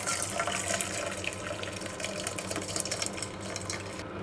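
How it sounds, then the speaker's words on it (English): Pasta water pours and trickles steadily through small holes in a pot lid into a sink, a continuous splashing rush at moderate volume. "So cover this lid and drain water."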